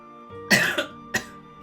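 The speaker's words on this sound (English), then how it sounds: "Because I was coughing." A person coughs in a sharp double burst, then once more a moment later, close and fairly loud against a faint electronic tone and background music.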